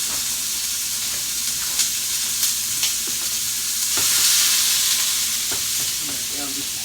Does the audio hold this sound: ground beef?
yes